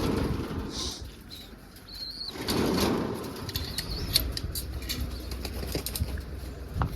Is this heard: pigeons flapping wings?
yes